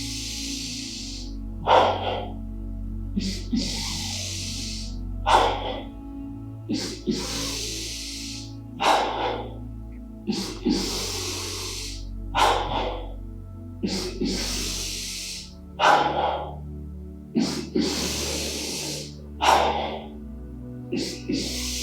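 Slow deep yoga breaths filling the belly and then the chest, a repeated cycle of about ten audible nasal inhales and exhales, close and breathy, evenly spaced, with no talking.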